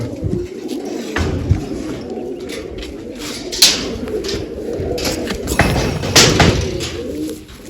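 Homing pigeons, including young birds with two-colour tails, circle back after release, with soft cooing and wing flutters over a steady outdoor background and occasional thumps as birds land nearby.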